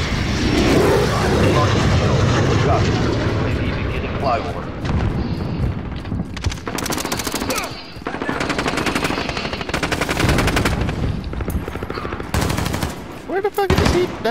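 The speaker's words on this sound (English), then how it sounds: "Friendly VTOL jet on station." In Modern Warfare, a friendly VTOL jet roars overhead amid loud, dense bursts of automatic gunfire and heavy explosions, with voices talking over the chaos throughout.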